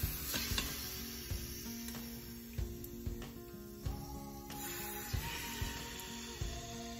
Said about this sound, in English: Yeah, got a little sizzle.